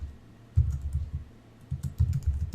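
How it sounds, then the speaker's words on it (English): Computer keyboard typing during photo-editing software work, with two short bursts of soft, close key clicks separated by a quiet pause. "I can just click anywhere and start typing as well"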